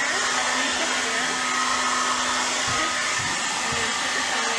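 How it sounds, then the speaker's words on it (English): A blow dryer set to hot runs steadily while drying a child's biracial hair, giving a loud, continuous whooshing roar that holds evenly from start to finish with no talk. "I'm going to put the blow dryer underneath the hair,"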